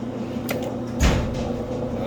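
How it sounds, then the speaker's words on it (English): A door slams once with a sharp, heavy thud indoors, preceded by a lighter knock, over a steady low background hum. "door just slammed"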